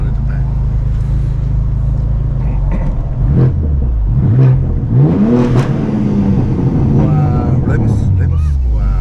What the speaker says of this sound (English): this one has M Performance exhaust. Yeah. And center muffler is super sprint. Super Sprint, and it's straight pipe